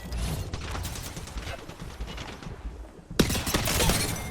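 Rapid enemy gunfire rattles in Apex Legends, bursts of shots with mechanical clatter, dipping briefly before a sharp loud crack and more firing.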